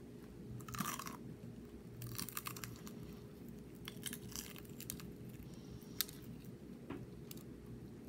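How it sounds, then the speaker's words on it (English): Close-up crunchy bites and chewing of Jollibee fast food eaten without gravy, irregular loud crunches separated by softer mouth sounds, with no talking. "let's take a bite of it first without the gravy"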